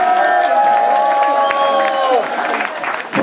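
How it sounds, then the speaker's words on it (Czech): A concert audience at a music club in Brno applauds and cheers loudly, with whistles and shouted voices over the clapping, before it thins out near the end. "Tak nám to trochu zatleskejte k tomu."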